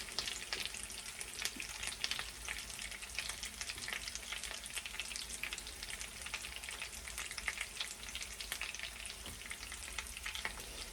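Potato pancakes fry in a pan with a soft, steady sizzle and crackle of hot oil that keeps going evenly throughout, fairly quiet and heard close up with no voices.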